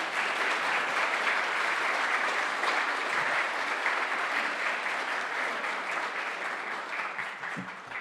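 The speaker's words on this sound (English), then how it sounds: "Let's give a big round of applause to Zoe." Sustained clapping from a symposium audience in a parliament venue fills the room after a speech, even and moderately distant, easing off a little toward the close.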